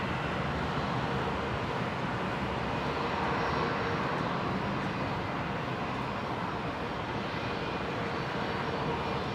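A jet airliner roars steadily at Brisbane airport, a broad continuous engine rumble and hiss that stays loud and even, with no talk over it.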